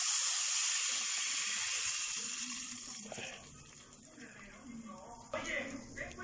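Salsa goes into hot oil in a clay cazuela and sizzles with a loud, bright hiss that slowly dies down, and someone speaks over the later part.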